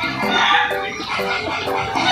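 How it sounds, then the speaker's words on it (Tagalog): A hen clucks near a rooster in a series of short, repeated calls, with background noise throughout. "inahin na yan kasi inaagaw yung ating tandang"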